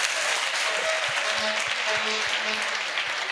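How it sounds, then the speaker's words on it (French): A church crowd at an evangelistic healing crusade claps together in a dense, steady burst of applause with a rhythmic beat running through it, loud and close, with no talk over it. "Acclamons Jésus-Christ."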